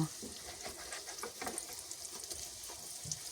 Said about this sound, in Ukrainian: І також смажимо до рум'яного